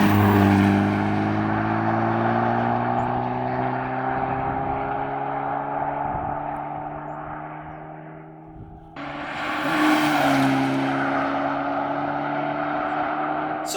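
A Hyundai Veloster N tuned with a JB4 on map 0 runs hard on a dyno, its engine note climbing steadily through the gears, a brief dip at a shift, then rising again loud and continuous.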